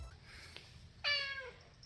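A cat gives one clear, rising-then-falling meow lasting about half a second, close and fairly loud against a quiet room with a soft click just before it.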